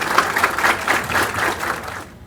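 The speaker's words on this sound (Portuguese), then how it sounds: "Vamos aplaudir o Tiago, nosso palestrante." An audience applauds a law professor introduced as the speaker at a seminar, a steady wash of clapping that fades out at the end after about two seconds.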